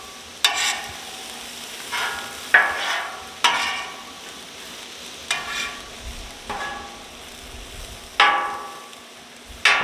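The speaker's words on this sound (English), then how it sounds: "We still got our onions and green peppers sauteing that we'll need to add into this mix as well." Onions and green peppers sauté in a pan, with occasional sharp spatula scrapes and stirring strokes over a faint, steady background sizzle.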